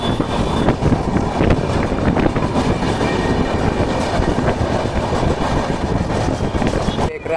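Kalindi Express, train no. 14117, runs at speed through Kanpur at night, heard from a 3rd AC coach as a loud, steady rumble with rhythmic clickety-clack of wheels and buffeting wind noise.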